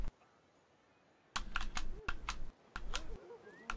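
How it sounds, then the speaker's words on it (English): Mechanical clicks from a Corsair RGB 95 keyboard come in quick, irregular clusters of close, crisp keystrokes over a quiet room. "That's why you hear the mechanical click when I'm doing stuff on the keyboard."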